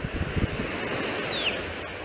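Sea waves roll onto Odessa beach after a morning thunderstorm, a steady close wash of surf mixed with wind buffeting the microphone, continuous and unbroken with no voices.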